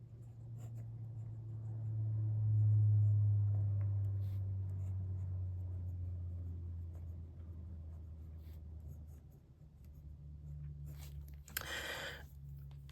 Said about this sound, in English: If I just do a little bit of right-handed writing.